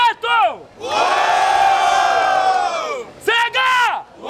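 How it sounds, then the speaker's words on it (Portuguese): At the grand final of a Brazilian freestyle rap battle in Barueri, São Paulo, a live crowd roars and bellows: short whoops, then one long sustained collective shout, then more bursts of yelling. "Muito barulho para as rimas do Preto!"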